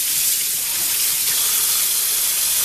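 A coffee maker's refillable basket rinsed under a running kitchen tap, a steady, loud, close hiss of flowing water with no breaks or voices.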